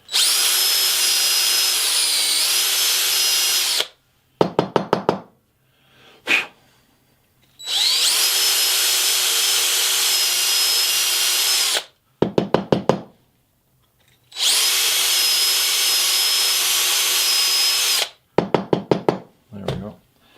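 A power drill spins a coarse hosel brush inside the hosel of a golf club being reshafted, Srixon 545. Three long loud whirring bursts alternate with short knocking taps and clatter between them.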